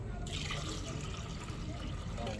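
Water pours into elastomeric paint in a continuous gushing, splashing stream, close and steady throughout, with no talking.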